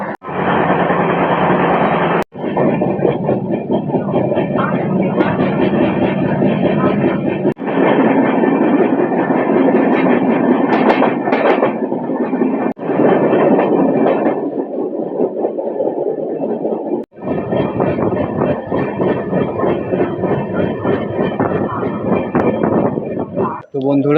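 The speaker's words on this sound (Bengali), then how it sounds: "তো এখন ট্রেনটা যাচ্ছে দুর্গাপুরে, ঢুকবে।" Amrit Bharat Express 13066 from Varanasi to Howrah runs between Asansol and Durgapur toward Durgapur Junction, heard from on board as a loud, steady rail rumble with clattering wheels that continues throughout with a few brief dips.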